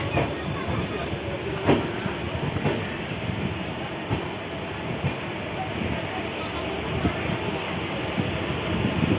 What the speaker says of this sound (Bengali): কলকাতা স্টেশন ছেড়ে বেরিয়ে আসলাম